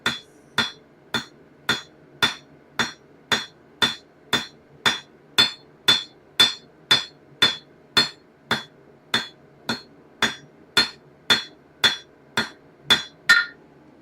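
A hammer strikes a forged dagger blade to straighten it, about two dozen ringing, metallic blows in an even rhythm, roughly two per second, close and clear with no speech.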